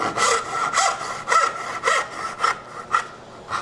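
A hand saw cuts into wood with about eight rhythmic rasping strokes, each push a loud, close, gritty rasp with short pauses between, alone without talk.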